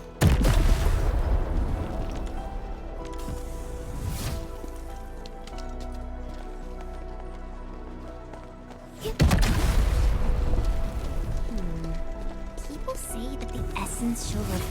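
An explosion in the Arknights: Endfield game lands with a loud sudden boom, then a long crackling decay under game music, followed by a second heavy blast that rings out with debris-like clatter.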